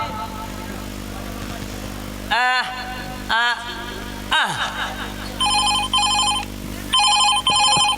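A telephone ringing in a Chhattisgarhi nacha comedy performance, with loud repeated ring bursts that follow swooping comic sound effects.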